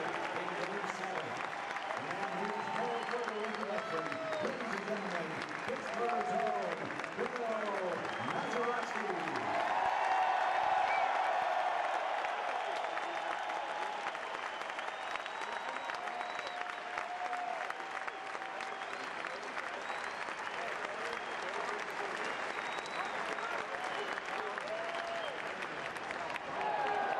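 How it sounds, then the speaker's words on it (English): Stadium crowd at the 2006 Home Run Derby applauding and cheering for a former Pirates World Series hero, a dense sustained roar of clapping lasting throughout, swelling loudest midway, with a public-address voice echoing over it early on. "let's hear it one more time for Bill Mazeroski"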